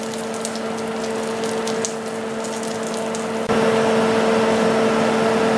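Nuts and raisins stirred and fried in a pan for an ancient Mexican mole sauce, a steady close sizzle with a faint hum, growing slightly louder partway through, no talking.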